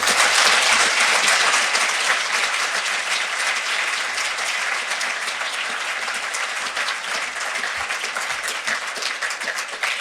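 An audience at a distinguished lecture applauds the Honourable Malcolm Turnbull AC, sustained loud clapping that holds steady for ten seconds and fades only slightly toward the end.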